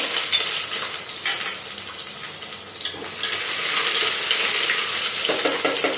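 Ginger and garlic hit hot oil with cumin in a pan, a steady close sizzle and crackle with scraping of a spoon stirring against the pan, no talk.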